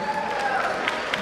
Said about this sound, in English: Keep clapping for them and send them with lots of best wishes.